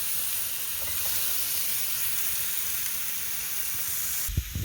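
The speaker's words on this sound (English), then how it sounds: "while we're searing the pork off" Pork searing in a hot pan, a loud, close, continuous hiss and sizzle held steady for several seconds before a brief knock of handling at the end, with no talk.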